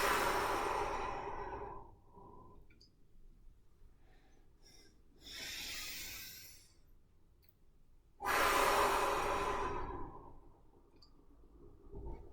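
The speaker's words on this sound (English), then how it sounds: "Deep breath in, 4, 3 more." Slow, deep breaths during a qigong stretching session: long airy inhales and exhales, with two loud rushing breaths mid-clip and near the end, separated by quieter pauses, close and unaccompanied by talk.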